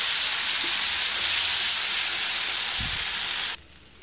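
Wild greens for keerai kadayal hit hot oil tempered with mustard seeds, giving a loud, steady broadband sizzle that holds for several seconds before dropping off abruptly.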